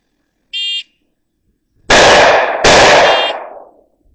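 A shot timer beeps once, then a Springfield Armory Operator 9mm pistol fires two loud shots about a second apart on a shooting range, each blast ringing and decaying.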